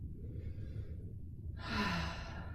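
A slow, audible breath held through a yoga stretch, a soft inhale giving way to a longer, breathy exhale over a low steady background hum.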